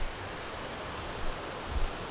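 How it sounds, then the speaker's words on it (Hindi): A rushing Himalayan mountain stream roars as trekkers approach it on a narrow trail on the Madhmaheshwar trek. It is a continuous, fairly faint, steady wash of water noise with no talk. "जो पानी की आवाज़ दूर से बहुत ही कलकल आ रही थी, वो बहुत ही ज़्यादा तेज़ आने लगी है"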